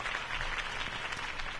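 Crowd applause for Harvey Dent's campaign speech in the Batman Telltale Series video game: steady, dense clapping from many hands, holding at an even level with no voices.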